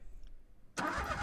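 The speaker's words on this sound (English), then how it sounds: "you can hear the engine starting" A car engine starts in an Unreal Engine game, a sudden loud, broadband roar kicking in after a brief near-silent pause and holding steady to the end.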